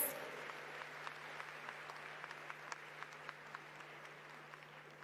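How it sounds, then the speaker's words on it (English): Steady applause from an audience at a climate summit plenary session, a dense wash of many hands clapping that carries on evenly throughout, with a constant low hum underneath. "Let's give them a warmer round of applause."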